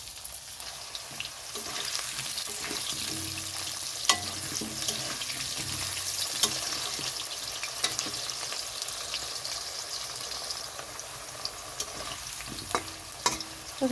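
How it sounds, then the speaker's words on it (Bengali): Potatoes fry in a pan of oil after fish has been fried, a soft continuous sizzle with occasional clicks of stirring, quiet and steady with no voices. "ওখানে দিয়ে দিচ্ছি আলুটা ভাজার জন্য ছেড়ে দিয়েছি"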